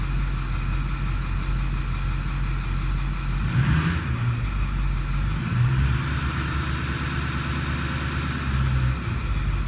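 A 6.4L Powerstroke diesel truck engine idles steadily with a deep, constant rumble and hum close by, a brief rise in pitch midway before settling back to its even idle.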